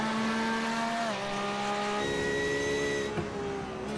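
Ferrari and McLaren GT3 race cars with high-revving V8 engines scream past at Donington Park, sustained loud engine whine with pitch shifting down as one passes and another rises, fairly close and without talk.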